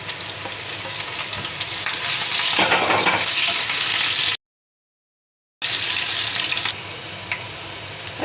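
Finely chopped green chillies fry in hot oil in a pan for a whole masoor dal, a loud close hissing sizzle that swells, cuts off abruptly into silence, then returns and gradually softens.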